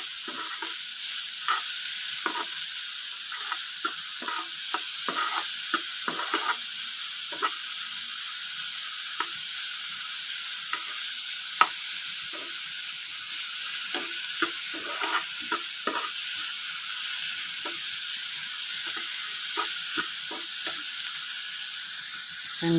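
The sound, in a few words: onions sautéing in a pan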